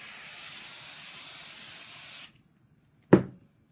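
A can of 505 spray adhesive hisses steadily onto fabric and wadding for about two seconds, close and loud, followed by silence and then a short sharp knock.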